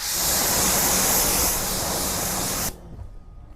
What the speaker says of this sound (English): I just stood back here and I kind of gave it a mist